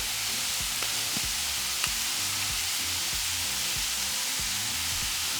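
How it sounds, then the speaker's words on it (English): Ground beef sizzles and fries in a hot pan as it is broken apart, a dense, steady crackling hiss broken by repeated low knocks and scrapes from a utensil, with no talking. "Once it's nice and hot, add 1 pound of ground beef. Begin to break it down."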